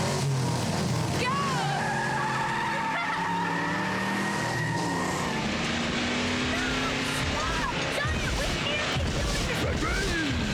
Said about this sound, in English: Hey, it's a drag race!